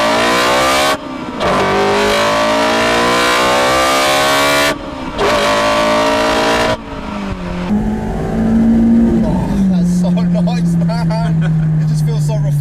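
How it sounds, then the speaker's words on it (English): Honda S2000 accelerating hard, its engine roar with strong induction noise climbing in long loud revving pulls broken by brief gear-change gaps, then settling into a steadier tone as it eases off; a voice talks lightly over the end. "when you sort of start to put your foot down, you really hear that induction roar"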